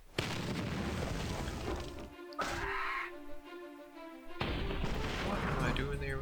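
A mini tank attacking a rock in Battle Nations, with a few game booms and bursts under steady background music and effects, one sharp hit standing out midway.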